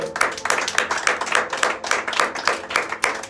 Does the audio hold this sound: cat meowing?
no